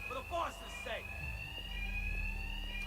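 A steady electronic alarm rings continuously inside a building in the video game Batman: Arkham Knight, a sustained tone heard throughout with brief voice-like sounds early on.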